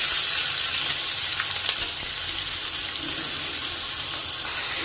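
Chopped onion sautéing in a pan, a loud, dense hiss of sizzling oil that stays steady throughout, with a few faint stirring knocks close by and no voices.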